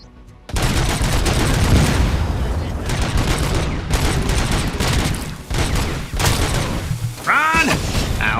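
Rifle fire in the RoboCop Rogue City video game: loud, dense bursts of gunshots and booms that run almost without a break, with brief gaps and a shouted voice now and then.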